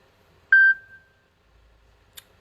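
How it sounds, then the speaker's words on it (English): A single clean electronic beep sounds once, loud and close, ringing briefly before fading into near silence, with a faint tick later. "Beep."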